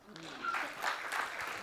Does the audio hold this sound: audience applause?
yes